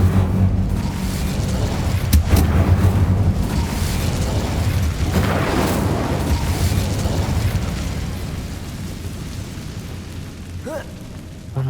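Incendio fire spell cast in the video game Hogwarts Legacy, a loud roaring burst of flame with booming rumble and sharp pops, sustained for several seconds before tapering off, with no talking.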